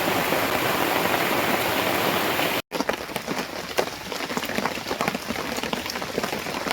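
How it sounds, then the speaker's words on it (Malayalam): Heavy rain pours steadily in a dense, close hiss, cut by a brief moment of silence before the downpour resumes with crisp drops pattering on surfaces. "ഇവിടെ മഴ തോരാത്ത മഴയായി എപ്പോഴും"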